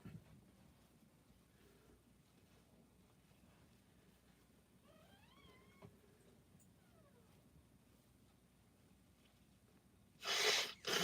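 A single sharp human sneeze bursts out loudly near the end, after a long stretch of quiet room noise with a brief faint whistling tone midway.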